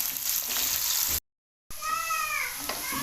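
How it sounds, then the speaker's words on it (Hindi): Onions frying in a pan toward light brown give a loud, bright, continuous sizzle, cut by a brief silent gap, then resume with faint whistling tones over the hiss. "प्याज हैं, ये मैं शामिल करके इसको मैं लाइट ब्राउन करूँगा।"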